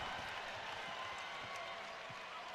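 Basketball arena crowd at a Gonzaga versus Queens University of Charlotte game, a soft continuous wash of applause and cheering heard from a distance, fairly faint throughout.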